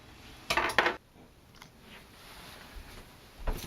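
A pancake of Korean seafood haemul pajeon is flipped from the pan onto a plate, a cluster of clattering pan-and-plate knocks, then a quiet pause with small clicks and another clack at the end.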